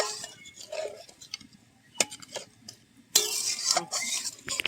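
A spoon stirs ridge gourd with added water in a cooking pan, making a run of irregular scrapes and clinks against the metal, with a louder burst of stirring toward the end and no voices.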